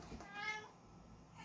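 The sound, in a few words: pet cat meowing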